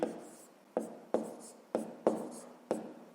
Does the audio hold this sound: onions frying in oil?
no